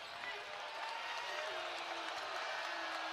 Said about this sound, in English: Crowd here in PBA getting loud, trying to get a stop here for the Huskers.